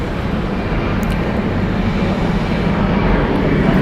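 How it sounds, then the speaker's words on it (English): A WestJet Boeing 737-800 airliner at Atlanta Hartsfield-Jackson International Airport gives a steady, loud, broad jet engine roar that holds evenly throughout with no speech. "WestJet flight 1599 going to Vancouver, Canada. This is a Boeing 737-800."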